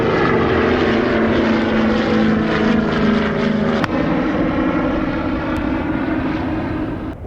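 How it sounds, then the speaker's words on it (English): A Douglas C-47 propeller airplane lands during the 1973 Heimaey evacuation in Iceland, its loud, steady engine drone and propeller hum holding close and constant before easing slightly near the end. "A view of our other C-47 landing."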